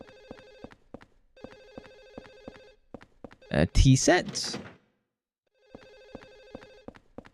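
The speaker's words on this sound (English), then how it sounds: "the phone sound is driving me insane" A telephone rings in Silent Hill 4: The Room, an insistent electronic trill in repeating bursts with short gaps, while a player briefly speaks between the rings.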